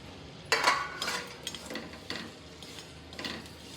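Dates being stirred in ghee in a hot kadai, with a spoon scraping and knocking against the metal pan in a series of irregular clinks and scrapes, close and moderately loud, with no talking.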